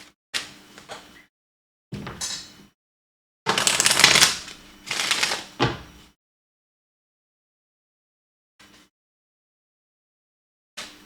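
Oracle cards shuffle in several quick riffling bursts, crisp papery flutters close up with pauses between and a couple of faint taps afterward, no voices.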